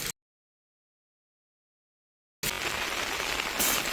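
Heavy rain pours down steadily during construction work on a Konkan village house veranda. After a short burst and a long silent gap, the dense rain hiss returns loud and continuous.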